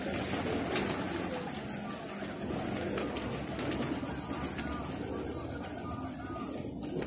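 Pigeons cooing softly outdoors amid a busy, noisy background, with people talking over the birds throughout.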